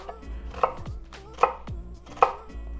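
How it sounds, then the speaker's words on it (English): A knife rough-chops a shallot or red onion on a board: three crisp, evenly spaced chops, close and clear, with no talking. "I'm going to go ahead and give it a rough chop right here"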